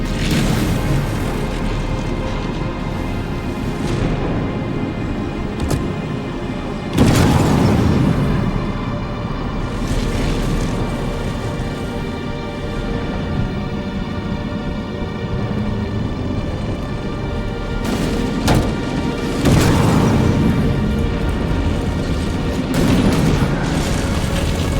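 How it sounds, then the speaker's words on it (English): Pulse generator power conduits blow apart in Halo Campaign Evolved: deep rumbling explosions swell over a droning game score, with one heavy boom midway and another cluster of blasts later. "The pulse generator overloaded."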